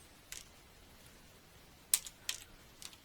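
Keys tapped on a computer keyboard while entering a spreadsheet cell reference, a few faint, sparse clicks spread out with quiet pauses between them.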